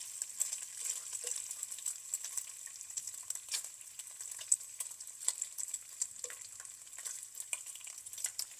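Bacon strips sizzling and crackling steadily in a frying pan, with faint scrapes and taps as a fork flips them; constant close hiss with small pops throughout, no talking.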